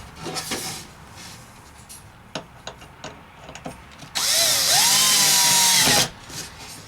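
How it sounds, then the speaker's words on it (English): A power drill whirs loudly for about two seconds, ramping up in pitch as it drives a screw while fitting out a DIY travel trailer, after a few light clicks and handling knocks. "Then we'll take our handy dandy drill."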